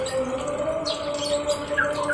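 A cucak ijo songbird gives thin, high chirps and short whistled calls while being bathed, heard over a steady running-water hiss and a low continuous tone.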